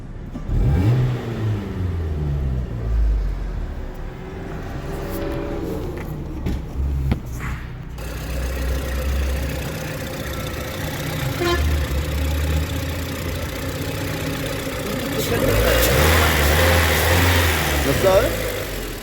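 A Renault Megane 1 car engine with low compression idles and revs in rising and falling surges, close by, with people talking over it throughout.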